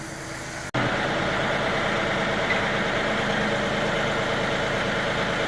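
A car engine held on a quickly made shop bracket, started for a test run: after a brief quieter moment, a steady, loud, close engine drone holds evenly throughout with no talk.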